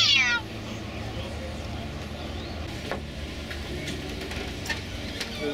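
A friendly cat meows briefly at the very start, high and close, aboard a sailboat cruising to the Broughtons, then low engine or water rumble and light background noise continue.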